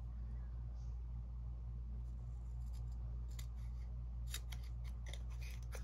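Scissors cutting paper for a journal, a few quick snips near the end, faint over a steady low rumble of vehicle or engine noise.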